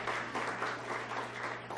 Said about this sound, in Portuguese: Palmas para as duas que foram já chamadas.